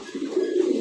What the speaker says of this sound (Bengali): এই যেটা হলো নটটা ডাকতেছে, এটা নর